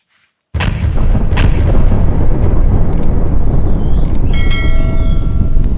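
A grenade in a video game goes off with a sudden loud boom after a brief silence, followed by a sustained roaring rumble and faint metallic pings.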